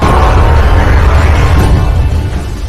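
A huge explosion from an animated donghua fantasy series, a dense, continuous roaring boom with heavy low rumble that sustains loudly throughout and tails off slightly at the end.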